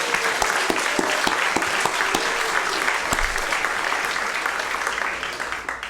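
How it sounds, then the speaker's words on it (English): Warm applause for Jake, the musician who played during dinner at a community-owned venue's tenth-anniversary celebration, a dense, sustained wash of many hands clapping close by that thins slightly toward the end. "Big round of applause for Jake, please."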